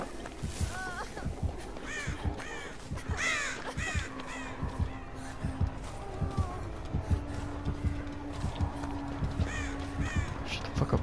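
Crows caw repeatedly in Dead by Daylight, harsh calls scattered across the scene over a steady game ambience, with a person talking intermittently throughout.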